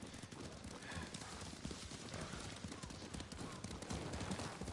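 Horses' hooves clip-clop in Ghost of Tsushima on PS5, a brisk, continuous patter of many steps at close range, fairly quiet, with a faint voice murmuring underneath.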